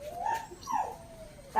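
A pet dog at home gives short excited whines and yelps, two rising-and-falling whimpers close by, greeting returning family members, with no talk.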